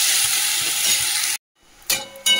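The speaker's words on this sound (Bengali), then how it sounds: "পেঁয়াজটা লাল করে ভাজা হোক" Chopped onions frying in hot oil with cumin and bay leaf, a bright steady sizzle that cuts off abruptly halfway, followed by brief clinks and scraping bursts.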